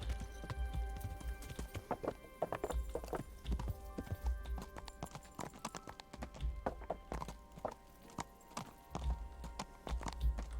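Horse hooves clip-clop steadily in a medieval video game, an even walking rhythm of close, moderately loud hoofbeats that continues throughout with no talk.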